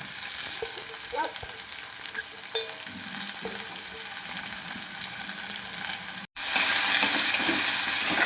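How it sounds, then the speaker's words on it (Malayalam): Chopped shallots and green chilies for a Kerala prawn theeyal sizzle in hot oil in a pan, with a few stirring knocks early on. After a brief cut the frying swells into a louder, brighter hiss. Nobody speaks. "നമുക്ക് ചെറുതായിട്ട് അരിഞ്ഞ ചെറിയ ഉള്ളിയും പച്ചമുളകും ചേർത്ത് കൊടുക്കുക."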